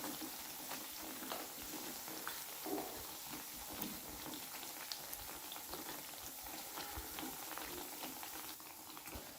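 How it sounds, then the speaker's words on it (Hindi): Bread pieces frying in hot oil for sweet bread kaja: a continuous, close crackle and bubbling sizzle with dense popping, steady throughout and no talk. "अब मैं इसके अंदर ब्रेड के जो पीसीज है वो डाल देती हूँ और इनको मैं फ्राई कर लेती हूँ"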